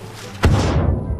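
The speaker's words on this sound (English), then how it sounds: "that was an explosion" A sudden heavy explosion in the video game The Culling lands as a loud thud with a booming low rumble that lingers and fades over the following second.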